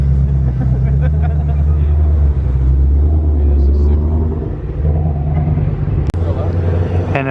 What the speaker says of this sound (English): We got the kids pulling up in the GT500